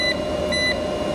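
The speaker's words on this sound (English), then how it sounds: "Sorry about the beeping." A solar inverter, model LV6548, gives a steady high electronic beep tone, repeating softly over a constant hum during a power input test; no talking.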